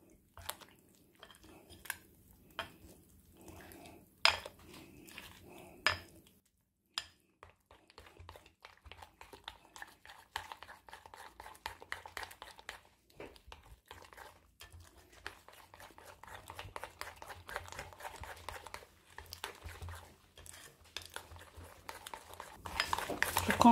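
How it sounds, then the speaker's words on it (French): A utensil stirring melted chocolate with butter and crème fraîche in a bowl, giving faint scrapes and clinks against the dish, sparse at first and then a steadier soft stirring that grows slightly louder. "Je continue comme ça à mélanger jusqu'à avoir un mélange bien homogène."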